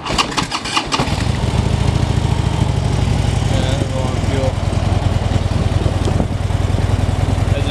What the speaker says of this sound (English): Let's go ahead and fire it up, listen to it.